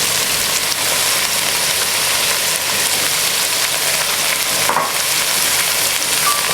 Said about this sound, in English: And then you're going to stir fry this for 2 minutes.